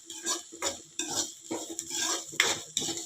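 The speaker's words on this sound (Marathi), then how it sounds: "हे कांदा असा चांगला परतून घ्यायचा आहे एक ते दोन मिनिटं असं आपण परतून घ्यायचं आहे" Small onions sauté in oil for a drumstick leaf curry, with rhythmic scraping strokes of a spatula against the pan roughly every half second over a soft sizzle.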